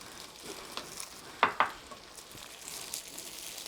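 Salmon fried rice with soy sauce and dried black seaweed sizzles steadily in a stir fry, a close hissing crackle broken by two sharp clatters from the pan near the middle.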